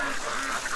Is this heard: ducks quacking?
yes